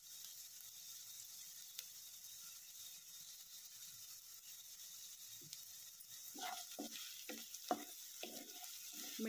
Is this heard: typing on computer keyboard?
no